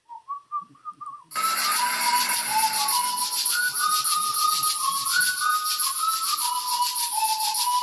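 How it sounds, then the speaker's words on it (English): Someone whistles a melody, a few clear notes alone at first, then continuing over a loud hissing, crackling background noise. "she's doing the whistling part now"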